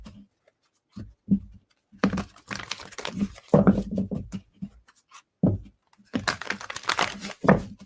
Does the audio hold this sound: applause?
no